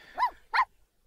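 Two short, high-pitched yaps from a puppy in The Sims 4, evenly spaced and close, followed by silence.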